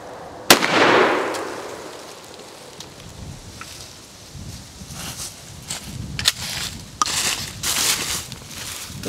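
A single loud buckshot blast from a Rock Island Armory M5 12 gauge shotgun with matte nickel finish, fired indoors for patterning, sharp near the start and followed by a decaying rumble, then scattered clatter and handling noises.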